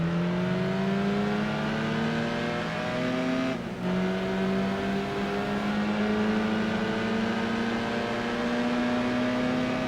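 A race car engine in the video game Gran Turismo 3 drones loudly and steadily, its pitch climbing through the gears with a brief dip at a shift, continuous and without speech.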